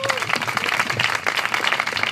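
Applause from the audience at a cultural forum in Vallcarca, steady dense clapping filling the whole short stretch.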